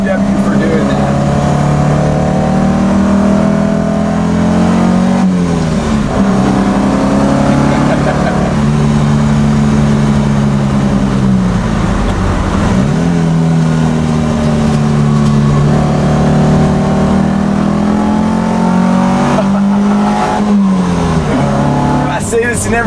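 A 1972 BMW 2002 Malaga's engine revs and pulls while driving, the pitch rising and dropping with heel-toe shifts through the gears, loud and close throughout.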